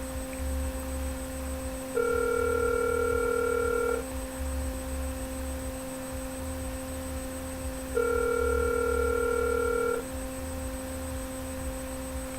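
Outgoing call ringback on a telephone line: two long electronic ring tones, each about two seconds with a steady pause between, over a constant low hum, no voices.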